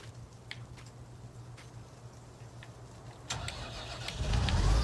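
A combine harvester engine in Farming Simulator 25 cranks and catches, a steady low idle hum giving way to a louder rising rumble near the end, with no talking.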